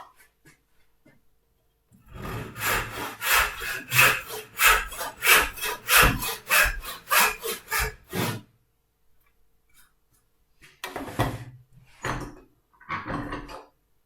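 Sharp hand saw cutting through wood, a run of about ten rhythmic rasping back-and-forth strokes, close and loud, then a pause and three more short strokes.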